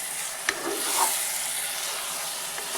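Sambharo with besan is mixed in hot oil, giving a continuous bright sizzle and hiss with a couple of light spoon taps, close and fairly loud, without any voices.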